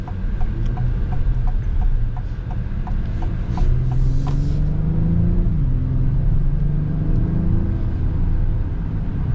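A 2026 Acura MDX V6 accelerating through its 10-speed transmission: a smooth mid-pitched engine hum rises and steps through gear changes, with a steady cabin rumble and a faint rhythmic ticking early on.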